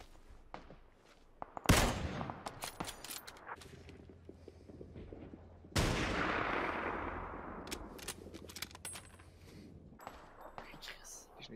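Gunfire in the battle royale game PUBG cracks out in a few sharp, loud shots, including a big blast near the start and another midway, followed by scattered, fainter pops as a player talks quietly underneath.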